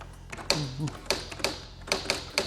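An SQ-1000 typewriter-style mechanical keyboard is typed on close up, with sharp clacking keystrokes in an uneven rhythm and a brief voice sound near the start.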